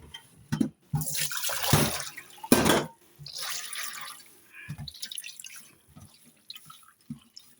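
Water runs and drains from a sink while elderberry-dyed fabric is rinsed, with bursts of splashing and pouring and quieter trickles and drips in between, close by and fairly loud.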